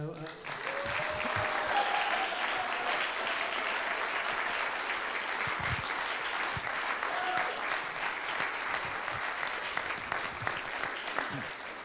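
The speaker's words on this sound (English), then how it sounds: "Everybody could applaud." Congregation at a Rosh Hashanah Eve service applauding the musicians, a sustained, even round of clapping from a modest crowd with a few voices murmuring underneath and scattered louder claps near the end.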